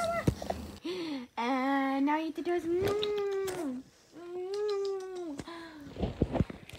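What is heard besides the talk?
cat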